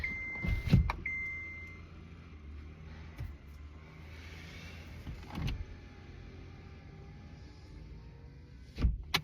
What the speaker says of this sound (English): let me roll up the window